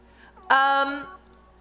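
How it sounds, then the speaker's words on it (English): A cat gives a single clear meow, close and fairly loud, in an otherwise quiet room with faint background noise. "Oh, hi, that was the cat."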